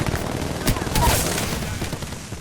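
Dense, loud gunfire from a video game shooter, a nearly continuous fusillade of overlapping shots that fills the whole moment, close and heavy.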